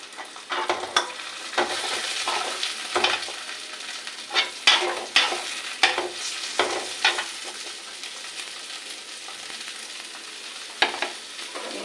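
Chopped garlic, chili, beet and long beans frying in hot oil while being stirred, with a steady sizzle and repeated sharp scraping clicks of a spatula against the pan, close and fairly loud, no talking.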